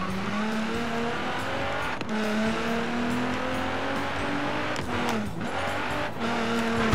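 Nissan GT-R Skyline engine in the Forza Horizon racing game, a loud steady drone of revving with shifting pitch and brief tire squeals, running continuously with no talk.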